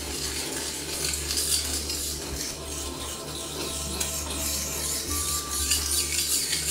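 A knife is sharpened on a stone, sides alternating, giving a steady rasping, scraping rub that continues without pause, moderately close and fairly quiet.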